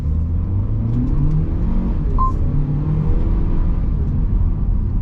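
A GWM Haval H6 SUV with a 2-litre turbo engine pulls hard under acceleration, heard from inside as a steady loud rumbling drone with whirring road noise and no talk.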